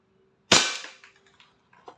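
An all-black WE Glock 35 Force Series airsoft pistol fires a single loud, sharp shot that decays quickly, followed by faint mechanical rattles and no voices.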